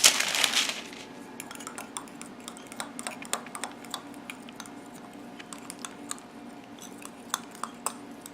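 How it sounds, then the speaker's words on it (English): Cinnamon powder being mixed into coconut oil for a healthy bread recipe: a run of light clicks and scrapes from a utensil against a bowl, close and fairly quiet, with a louder rustle at the start. "I'm going to mix some cinnamon powder in with that."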